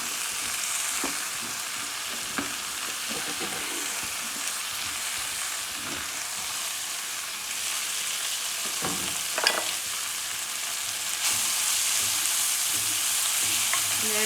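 Chaya mansa leaves wilting in coconut oil in a pan, producing a steady sizzle with scattered stirring clinks and scrapes that brightens and grows louder toward the end, with no speech.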